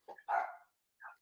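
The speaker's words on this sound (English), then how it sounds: "You can hear the dog right now from you." A dog barks close by, a couple of short loud barks followed by a softer one, heard alone with no talk.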